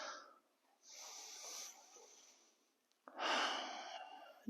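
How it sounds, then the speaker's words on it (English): Slow, audible ujjayi breathing during a standing warrior yoga pose: a soft hissing exhale, a pause, then a louder, closer rushing breath, with no talking. "Deep breaths, Ujjayi breathing,"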